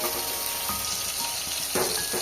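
Tomato pieces fry lightly with a pinch of salt, making a soft, even sizzle close by with a few faint stirring clicks and a brief louder scrape near the end.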